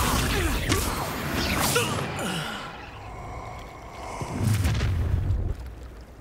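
Fiery Incendio spell blasts from the Hogwarts Legacy video game during combat, loud whooshing bursts and booming impacts filling the first two seconds and again near the end, with a quieter rumbling stretch between.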